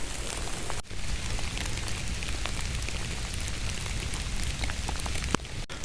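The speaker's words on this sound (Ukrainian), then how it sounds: "На дворі, до речі, дощ" Steady rain falls outdoors in a forest, a dense even hiss of drops continuing throughout with a couple of brief sharp knocks, close and moderately loud, with no voices.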